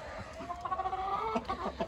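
A large rooster clucks in quick, low repeated notes while eating, close and fairly quiet, with soft farmyard background near a tent coop.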